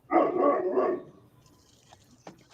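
A dog gives a short burst of close barks and yips in the first second, then fades into quiet room noise with faint clicks.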